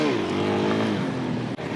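A Suzuki DRZ 400 motorcycle with its stock muffler pulls away under acceleration, giving a steady, fairly quiet engine drone that rises slightly in pitch, close by, with a brief dip near the end.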